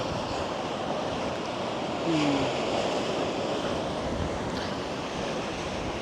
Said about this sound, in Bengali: সমুদ্রের ঢেউ আপনারা একটু উপভোগ করেন